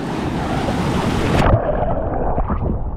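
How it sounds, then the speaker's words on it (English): Big waves in a water park wave pool at Tenerife surge and crash, a loud, close, broadband wash of churning water that abruptly thins after a mid-point break, with no voices. "Let's go catch some big waves."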